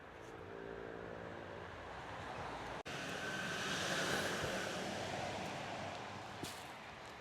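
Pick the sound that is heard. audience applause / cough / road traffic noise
road traffic noise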